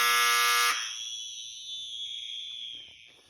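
School fire alarm going off, a loud piercing electronic tone that cuts out abruptly after under a second, leaving a fading high ringing and faint room noise.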